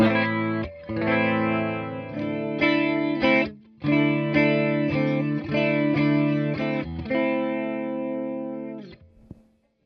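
A sustained electric guitar played through a Fender Twin Reverb Tonemaster amp with reverb off and a wavering modulation effect, chords ringing out with brief pauses before fading at the end.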